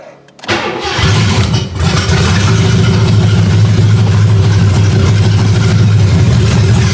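A Ford Granada engine cranks and catches, then settles into a loud, steady low idle as the car creeps slowly along a driveway, close to the microphone.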